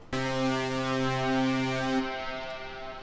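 A layered lead synth stack with a touch of chorus holds a bright sustained note for around two seconds, then the tone thins and fades into a soft tail.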